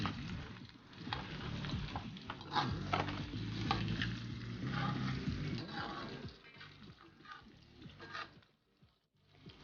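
A spoon stirs a tomato rice mixture with a pinch of caramel powder as it fries in a pan, giving soft scraping and gentle sizzling that is fairly faint and fades near the end.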